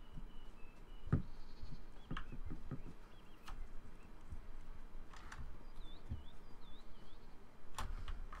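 Sheep bleat in the Elder Scrolls Online game: a few short, quiet calls over a low ambient game bed, with scattered soft thuds and brief high chirps.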